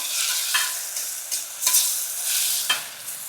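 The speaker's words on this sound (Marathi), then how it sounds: "पेस्ट पण ना आपण मस्त फ्राय करायची." Ginger-garlic paste frying in a pan with softened tomato, a bright continuous sizzle broken by several sharp scraping strokes of a spatula stirring it, close up with no voices.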